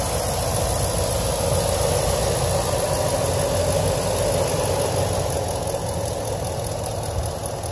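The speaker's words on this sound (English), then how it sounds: "So here's a shot of the engine running." A 2017 Ford F-250 STX FX4 with a 6.2-liter gas engine idles with a steady, even low rumble and a faint high whine, continuous and close, with no voices.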